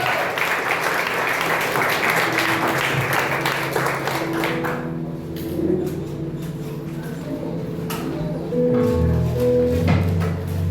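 A church congregation at a Sunday celebration service claps for Jesus. The clapping is dense at first and fades after a few seconds, giving way to sustained tones and a voice under a steady, resonant room ambience.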